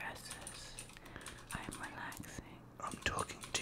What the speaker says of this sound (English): I'm just typing my essay